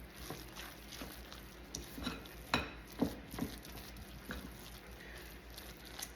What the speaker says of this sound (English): Stir those together.